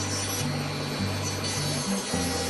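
Carving knife shaving wood on a black-capped chickadee carving, steady close scraping and rubbing strokes continuous throughout over a faint low hum.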